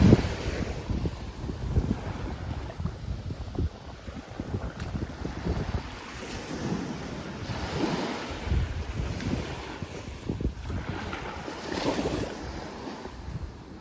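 Surf washes onto a beach at Koh Rok island, Thailand, in a steady churning roar under strong gusts of wind buffeting the microphone, with no voices.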